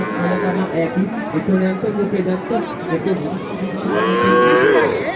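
Cattle at a bull-calf market at the traditional Mataji haat in Naogaon, lowing under steady crowd chatter and nearby talk, with a longer, louder moo near the end.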